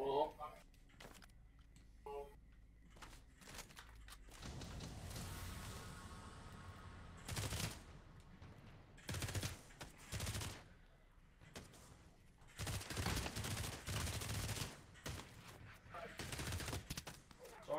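Bursts of automatic gunfire from a zombie shooter video game come in several loud volleys over game ambience, with voices talking around them.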